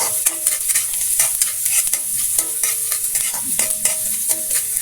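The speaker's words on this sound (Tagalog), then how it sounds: "Lalagay na natin itong ating bawang at sibuyas. Pagsabayan na natin." Garlic and onion fry in a pan with a loud, steady, close sizzle, broken by repeated scraping and clinking from stirring.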